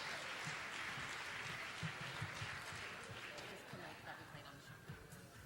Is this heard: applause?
yes